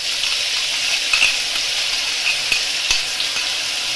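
Onion and garlic paste sizzles in a kadai on low heat for an egg curry, giving a continuous bright hiss of frying with a few small clicks and pops.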